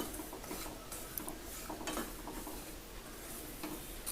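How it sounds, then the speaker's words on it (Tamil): Semolina (rava) being dry-roasted in a pan and stirred for kesari, a quiet, close scraping and rustling of grains with soft clinks of the spoon against the metal. "அதனால் இப்போ நம்ம ரவையை நல்லா வறுத்து எடுத்துக்கலாம்."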